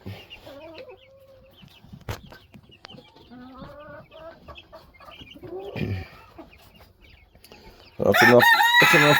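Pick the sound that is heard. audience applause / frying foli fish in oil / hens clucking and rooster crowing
hens clucking and rooster crowing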